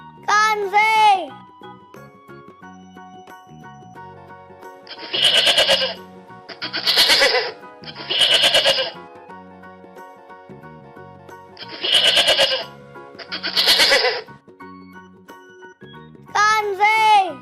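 Goat bleats in a children's animal-sounds lesson, several short loud bleats in a loose sequence, separated by quieter gaps with light tinkling.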